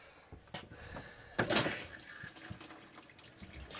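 Hot water tap in an Auto-Trail Scout camper van turned on, giving a short burst of gushing, sputtering pressurised flow, with a few faint clunks and drips either side.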